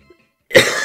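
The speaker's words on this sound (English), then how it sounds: "Coughing, it's pretty good." A single loud, harsh cough bursts out close up after a brief silence, heard in the video game Pokemon Sun and Moon.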